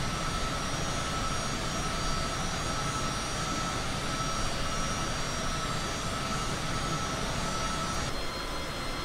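A steady, continuous airliner engine drone in Microsoft Flight Simulator 2020 during a cruise flight over New Mexico, loud and unchanging throughout with no talk.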